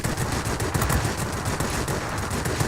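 Rapid, sustained aircraft machine-gun fire from the I-220 plane in the World of Warplanes game, a dense continuous burst that is loud and close.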